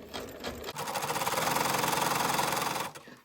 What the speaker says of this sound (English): I'm just going to zigzag all the way around.